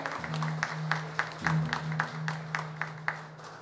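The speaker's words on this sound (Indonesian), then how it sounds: "Mari kita berikan tepuk tangan yang meriah hadirin sekalian" At the opening of a 2022 halal industry event, an audience applauds warmly after the official launch countdown: steady crowd clapping with distinct louder claps, moderately distant, over a sustained low hum.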